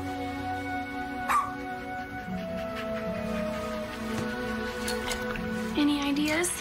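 A dog whimpers and gives small yips, faint and close, over a low steady background hum, with no talking.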